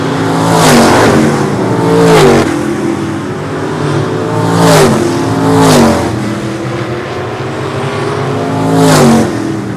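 Race cars in a short-track series heat roar past loudly and up close, their engines rising and falling in repeated sweeping pitch glides as several cars pass in turn, with no voice over them.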